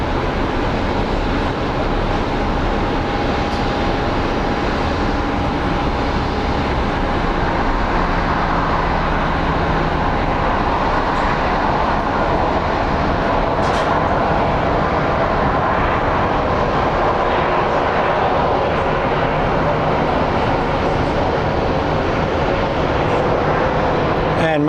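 DHL cargo plane on a smoky arrival at Phoenix Sky Harbor, a loud continuous engine roar and rumble filling the whole stretch, with talking mixed in.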